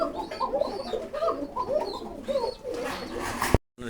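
Pigeons coo repeatedly at a breeding farm where birds are sold, with a steady flock of soft, overlapping coos close by. A brief sharp clatter comes near the end, then a moment of silence.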